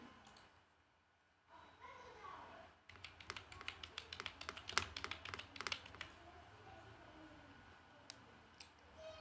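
Quick bursts of keystrokes on a computer keyboard as an Aadhaar card number is entered into an online travel e-pass registration form; close, crisp clicks in uneven runs after a quiet start, with no talking.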